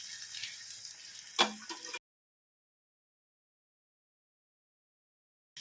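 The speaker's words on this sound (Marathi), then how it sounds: "ह्याच्यामधनं जो कडतड आवाज येतो मॉइश्चरचा किंवा पाण्याचा तो जाईपर्यंत आपण या फोडी तळायच्या आहे" Brinjal pieces crackle as they fry in hot oil, a faint steady sizzle with one sharp pop, lasting about two seconds before cutting to silence.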